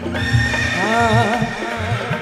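A horse neighs loudly and close by, one long wavering whinny that rises and falls over about two seconds, with no other sound.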